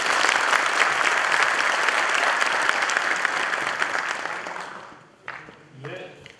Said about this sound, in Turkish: Öncelikle Yaka 16'yı düzenleyen ekip için sizden bir alkış isteyebilir miyim?